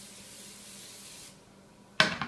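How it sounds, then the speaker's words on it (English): Non-stick cooking spray hisses into a skillet on a stove as a single short, sharp burst at the very end, following a low quiet room background. "Non-stick cooking spray."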